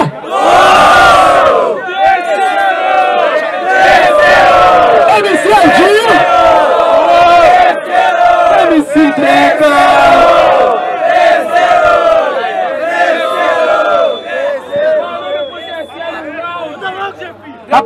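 At a rap battle, a large crowd shouts and cheers loudly and continuously, the voices swelling and chanting together for the whole stretch.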